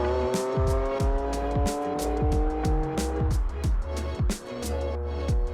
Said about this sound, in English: This one's got a V6. Just listen to it.